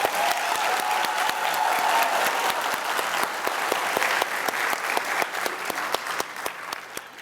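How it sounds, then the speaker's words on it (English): A school-system crowd at a Teacher of the Year event applauds its teachers, a loud, dense and steady ovation of many hands that runs unbroken from start to finish. "If you would all join me in just giving our teachers a round of applause."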